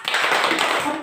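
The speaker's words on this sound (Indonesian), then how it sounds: "Tepuk semangat dulu untuk kita semua." A classroom of young schoolchildren doing a rhythmic spirit clap together, dense and steady close up, with some voices mixed in.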